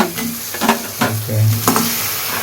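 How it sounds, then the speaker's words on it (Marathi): Crabs fry in a homemade red chilli masala, giving a loud, close, continuous sizzle broken by a few scraping stirs. "आता खेकडे ते खेकडे फ्राय करणार याच्यामध्ये"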